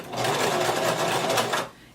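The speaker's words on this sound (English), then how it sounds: "change your machine to a zigzag stitch. Go ahead and lower your needle and just start sewing" A sewing machine running a zigzag stitch on dress fabric, a close, continuous rapid whirring patter for nearly two seconds before it stops, with no talking.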